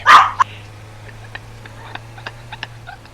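Dogs bark in a driving video game: a loud bark and a quick second yelp at the start, then faint scattered ticks over a steady low electrical hum.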